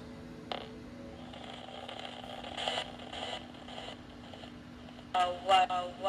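A Coffin Edition spirit communications radio with the reverb turned up produces warbling, robotic, static-laced sweeps and short bursts that swell and fade over a steady hum.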